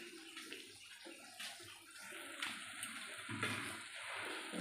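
Water poured into a pan of turmeric, chili and coriander spice mix, a faint running, splashing pour that builds slightly and carries on steadily.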